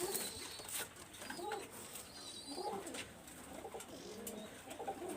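A pair of yellow-eyed Bidyut-line pigeons coo in low, rolling phrases that repeat several times over steady background noise, with faint chirps higher up.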